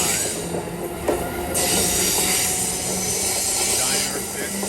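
A passenger train to Boston on the Northeast Corridor rolls steadily past, with a continuous rumble, wheel noise and some squealing throughout, fairly close, and no talk.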